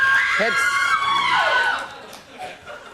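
A television talk-show studio audience screams in shrill, sustained, high-pitched bursts, loud and close, fading after about two seconds.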